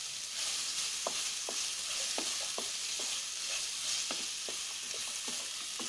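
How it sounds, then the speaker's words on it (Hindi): Radish chutney with green chillies sizzles steadily in a pan, with a broad continuous hiss and scattered sharp clicks and scrapes from stirring, close and moderately loud, no talk. "फिर से 1 मिनट के लिए फ्राई करेंगे"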